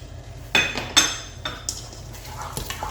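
A utensil stirs seasoning granules, salt, white pepper and black pepper into already cooked food in a pan, making sharp metallic clinks and scrapes in several quick strokes against a low background hum.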